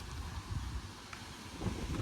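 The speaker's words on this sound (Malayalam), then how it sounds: "നല്ല കാറ്റടിക്കുന്നുണ്ട് കേട്ടോ" Steady wind rushing and buffeting against the microphone, a low roaring rumble that swells in gusts near the end.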